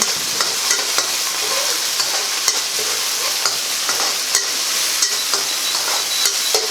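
Marinated ingredients with oyster sauce stir-fried in a pan for Thai fried tofu with holy basil: a steady broadband sizzle with regular scraping stir clicks, close and fairly loud, no voices.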